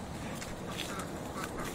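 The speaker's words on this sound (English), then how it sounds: "I think they're Peking ducks, they avail themselves of a nice swim in the pond." Peking ducks on a pond quacking softly at a distance over a steady wash of outdoor noise, a few scattered calls with no voices.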